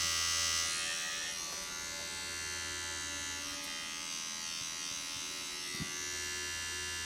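A nano tattoo machine buzzes at 6 volts, a faint, steady high-pitched hum running throughout with a small click near the end.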